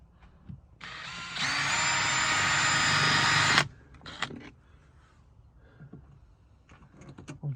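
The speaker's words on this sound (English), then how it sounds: "I'll drill up on a little bit of an angle just in case." A power drill whirs loudly and steadily for about three seconds drilling into a Renault Master van panel, then cuts off, followed by light clattering and handling noises.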